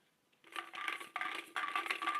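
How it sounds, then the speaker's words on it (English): Numbered lottery balls shuffled in a lottery bowl before a racing grid draw, close clattering rattles in three bursts after a quiet start. "shuffle the balls, pull 2 of them out of the lottery bowl"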